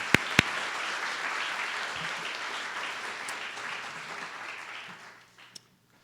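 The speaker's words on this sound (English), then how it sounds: "Let's have a round of applause to start things off." An audience at a university research talk competition gives a full round of applause, dense even clapping filling the room for about five seconds before tapering off, a couple of sharp knocks near the start.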